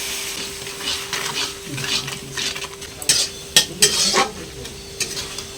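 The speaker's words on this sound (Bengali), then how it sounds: "লবণ, হলুদ গুঁড়ো, লঙ্কার গুঁড়ো, জিরের গুঁড়ো, ধনের গুঁড়ো, অল্প একটু জল দিয়ে মশলাটা কষিয়ে নেব" Ground spices (salt, turmeric, chili, cumin and coriander powders) are stirred with a splash of water in a pan for a bean curry: a spoon scrapes and clinks against the metal over a soft, steady sizzle, with sharper knocks near the end.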